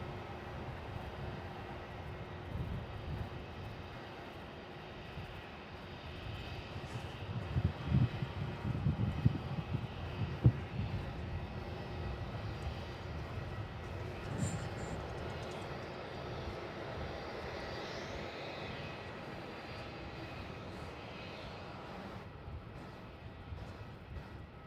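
An airliner lands on runway 34 at Melbourne Airport, a low, steady jet rumble at some distance that swells slightly in the middle and then settles, with no talking.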